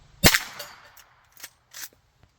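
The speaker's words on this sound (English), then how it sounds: "let's see what we get out of the Henry carbine with 16-inch barrel on the Hornady Critical Defense 80 grain." Single sharp gunshot from a Henry carbine with a 16-inch barrel firing .32 H&R Magnum Hornady Critical Defense 80-grain rounds, a loud crack with a short ringing decay, followed by a few faint clicks and knocks.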